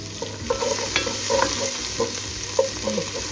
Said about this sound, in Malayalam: നമ്മൾ ചിക്കൻ വറുത്ത് കോരിയ ആ ഓയിലിലേക്ക് തന്നെ നമ്മൾ ഈ വെളുത്തുള്ളി ചേർത്ത് കൊടുക്കുക